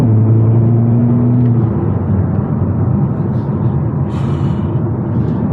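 A Hyundai Kona N driving on a highway in N mode gives a loud, continuous rumble of engine and road noise, with an engine tone fading early and a faint squeak later.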